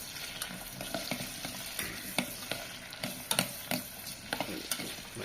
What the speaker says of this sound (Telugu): కొంచెం నూనె వేడెక్కాక ఉల్లిపాయలు వేసేస్తున్నాను.